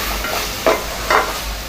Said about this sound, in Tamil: தக்காளி நல்லா வதங்கிட்டுருக்கு